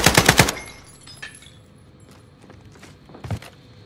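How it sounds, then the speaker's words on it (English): Rapid burst of automatic gunfire from Call of Duty Warzone, loud and close, followed by quieter scattered footsteps and shuffling with a single sharper shot or impact near the end. "Taking shots."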